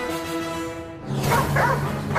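A dog barks in a television superhero challenge, giving a few close, loud woofs after a brief quiet moment.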